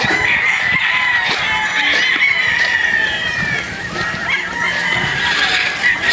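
Hens and roosters, including pure Boston breed hens and bullstags, on a farm in Padre Garcia, Batangas, a dense, continuous chorus of clucking and crowing from many birds both near and far, with no one speaking.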